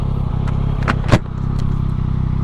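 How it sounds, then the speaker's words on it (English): Road traffic streams past close by: a constant low engine drone, with a couple of vehicles swishing by in quick succession near the middle. "there's so much traffic going down through here"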